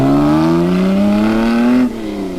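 Reg Parnell's Lagonda race car pulls away from the pits, its engine loud and close, pitch climbing steadily through a rising rev before cutting off abruptly near the end.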